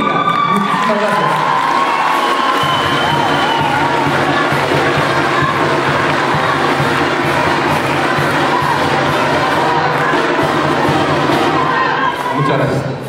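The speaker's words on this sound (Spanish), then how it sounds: "Aquí yo quiero pedirles un muy fuerte aplauso a nuestro líder de la sección 9, José Amador Zúñiga." A crowd at a swearing-in ceremony applauds and cheers loudly, with whoops and shouting blended into a continuous roar that stays strong from start to finish.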